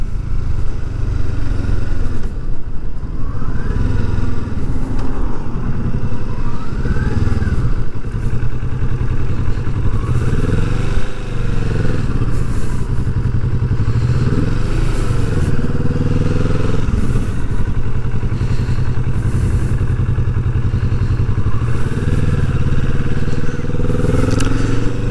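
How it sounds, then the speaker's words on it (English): A 2020 Kawasaki Vulcan S cruiser motorcycle being ridden, its engine a steady loud rumble close to the mic throughout, with rising and falling revs as it shifts and accelerates. "it's a very light bike to ride, easy to handle, easy to maneuver."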